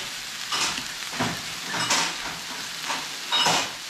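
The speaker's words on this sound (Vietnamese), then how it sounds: "Cái bò này sái kiểu này nó ăn nó vừa nhanh chín mà hay quá." Beef frying on a tabletop hotpot and grill cooker, giving a steady hiss with several louder sizzling surges about every second as the meat is stirred, close by with no talking.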